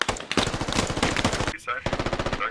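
Rapid bursts of heavy automatic cannon fire from a BMP armored vehicle in the video game Squad pound in a steady rhythm, close and loud, with a short pause before the firing resumes.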